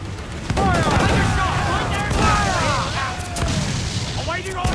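Pirate-ship cannons in the Assassin's Creed IV Black Flag video game boom in a rapid volley during a naval battle, heavy thuds layered over rushing sea and wind, with crew members shouting throughout.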